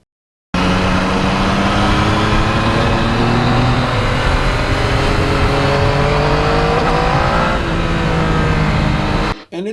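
A 2020 Yamaha MT-09's three-cylinder motorcycle engine revs loud and close for about nine seconds, its pitch holding then shifting through the rev, before cutting off abruptly.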